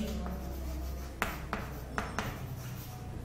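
Writing on a board during a physics lecture on reference frames: four or five brief tapping strokes over a steady low room hum, moderately close, with no talking.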